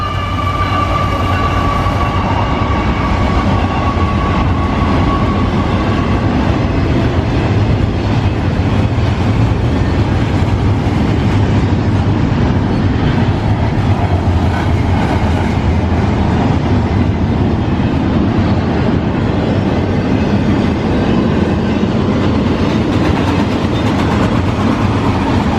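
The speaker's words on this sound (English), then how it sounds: "as a CSX train goes by" A CSX freight train rolling past close by, a loud, continuous rumble and rattle of wagons on the rails that holds steady for the whole stretch.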